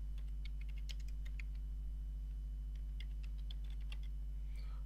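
Quick, irregular clicks of typing on a computer keyboard, faint and close, in bursts over a steady low electrical hum, with no talking.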